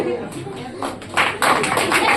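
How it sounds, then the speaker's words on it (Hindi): A class claps in a classroom during a basic maths lesson, a scattered burst of many hands that builds and stays dense toward the end over room noise. "एक बार ताली बजाओ"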